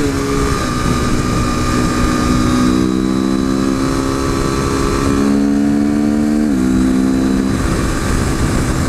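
A modded 2015 KTM RC 390 sport motorcycle engine revs up loud and close, pitch climbing through several quick-shifter gear changes with brief drops at each shift.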